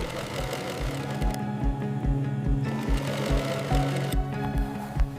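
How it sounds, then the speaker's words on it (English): An industrial sewing machine stitches a crocodile leather jacket with a rapid, even mechanical chatter of the needle, steady and close, briefly easing off midway before continuing. "Stitching a crocodile leather jacket takes far longer than stitching cowhide."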